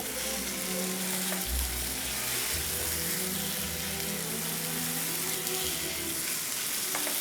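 Tomatoes and shrimp sizzle and fry in a hot pan with a steady, close crackling hiss and occasional stirring clatter, with no voices.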